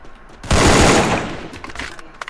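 SCAR rifle fire in Free Fire bursts in suddenly as a dense, loud rapid volley, then fades into scattered lighter shots over about two seconds.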